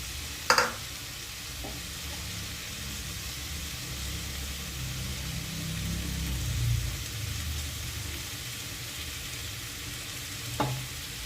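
Round-sliced onions frying in mustard oil in a pan, giving a steady low sizzle throughout with a couple of sharp clinks near the start and end.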